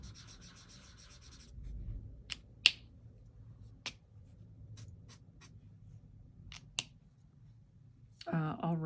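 Art supplies from Holbein, Luminance and Derwent being swatched on paper, soft scratchy strokes with a few sharp taps scattered across the stretch, close and quiet, and a voice briefly talking at the end.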